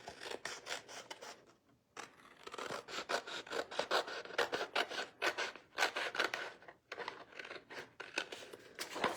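Scissors cut through paper that has dried glue on it, making a close, soft run of rhythmic snips and rasping scrapes with a couple of short pauses, and no voices.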